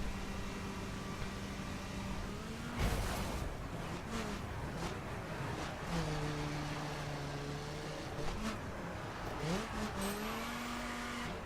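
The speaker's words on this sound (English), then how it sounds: "Bit more wheel spinning coming out of the corners, not so much acceleration compared to the Silverado." Ford Raptor truck in the racing video game The Crew, engine droning and shifting pitch as it accelerates, with tire squeal and wheel spin out of corners, steady and moderately loud.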